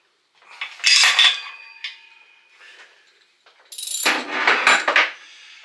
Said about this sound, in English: And then I actually just tighten it down.